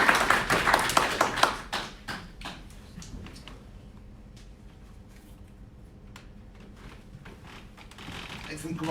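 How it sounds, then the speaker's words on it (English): Short burst of audience clapping for a speaker at a morning business briefing, loud at first then quickly fading to a few scattered claps and room shuffling. "So big round of applause for Dale."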